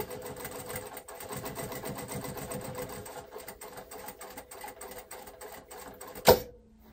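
A sewing machine stitching fabric for babette trousers, a fast, even mechanical whir running steadily, pausing briefly, then ending with a sharp clunk.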